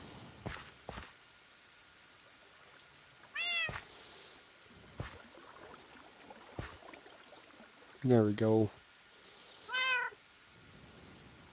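A cat meows three times in a quiet room, short rising calls spaced a few seconds apart, the middle one louder and doubled, amid soft thumps and shuffling, with someone briefly speaking.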